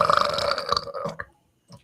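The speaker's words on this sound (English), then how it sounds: "that was like a 7 out of 10 burp" A loud, drawn-out human burp close to the listener, a croaking rumble lasting over a second with a short trailing grunt afterward.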